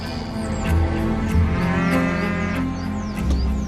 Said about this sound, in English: one of Britain's oldest native breeds, pure Highland cattle